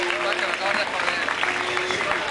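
Applause at a live show, steady clapping under a sustained musical tone with some voices mixed in, fairly loud and continuous.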